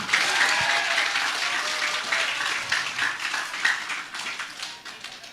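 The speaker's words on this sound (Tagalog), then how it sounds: "Kaya isang palakpak o isang bagsak para kay Mike Defensor." Audience applause at a political rally in Metro Manila, a steady wash of many hands clapping that carries through the whole stretch at an even, sustained level with no talk over it.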